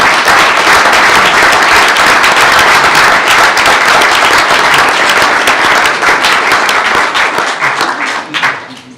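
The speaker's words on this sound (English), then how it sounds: "let's give them a round of applause." Loud, dense applause from an audience at a school board meeting, honouring students, coaches and faculty. The clapping stays strong for several seconds, then thins and fades away at the end.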